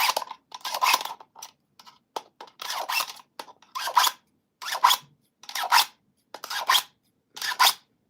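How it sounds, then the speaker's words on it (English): Fiskars scissors cutting fabric snip repeatedly in short crisp bursts, about a dozen cuts with a steady rhythm, close up and with no talking. "These are Fiskars scissors."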